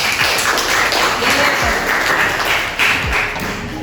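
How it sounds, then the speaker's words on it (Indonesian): A classroom of students applauding, steady close clapping from a group that holds even throughout with a few low thumps mixed in. "Beri aplaus dulu untuk kalian"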